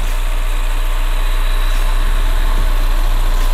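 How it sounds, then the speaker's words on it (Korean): A used Ford Mustang coupe's engine idles steadily with a constant low hum and rumble, loud and close, with no talking. "엔진 소리 일정하네요"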